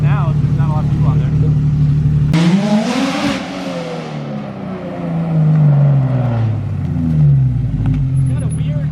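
A straight-piped Porsche GT3 RS makes a loud flyby: a steady idle, then the engine bursts into a raspy high-revving roar as the car passes close, and the pitch falls away in a downshifting drone as it recedes.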